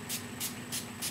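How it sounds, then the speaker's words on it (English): A spray bottle filled with water misting synthetic dreadlocks, four short quick hissing spritzes in an even rhythm, close but fairly quiet. "So then you just spray it"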